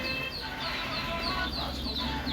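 Chickens clucking steadily and close at a Khulna poultry chick seller's stall, with chirpy calls layered over a busy background.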